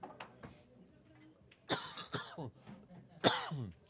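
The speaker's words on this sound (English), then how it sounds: "Sorry about my cough." A person coughs and clears their throat several times in sharp, close bursts, two loud hacks standing out among smaller ones in a quiet room during a blackball pool match.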